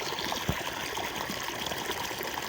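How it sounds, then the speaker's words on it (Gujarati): Irrigation water flowing along a channel through farm field plots, a steady close-up gurgling rush with small splashes, continuous and unbroken, with no talk. "જો અહીંયા પાણી આવે"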